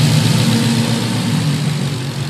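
A Nissan VH45 V8 from a 1995 Infiniti Q45, swapped into a 240SX, idles loud and close with a steady, deep, even rumble throughout.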